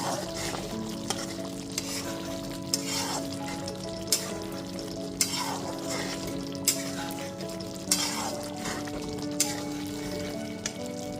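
Pointed gourd (potol) simmers and sizzles in a yogurt gravy in a pan, with a steady frying hiss and repeated sharp scrapes and knocks of a spoon stirring at a regular pace.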